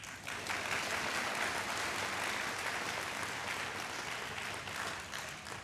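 A crowd at a high school athletic awards ceremony applauds steadily, a broad, even patter of many hands that swells slightly and then eases a little near the end, heard alone without talk.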